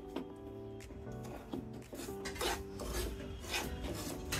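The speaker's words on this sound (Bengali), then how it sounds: "এখানে 2 কাপের মতো সুজি নিয়ে নিয়েছি, একটু ভেজে নেব।" Semolina roasting in ghee over low heat, stirred continuously with a spoon that rasps and scrapes across the pan in a steady, close, rubbing rhythm.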